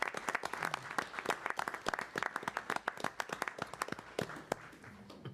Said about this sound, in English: I give you a round of applause.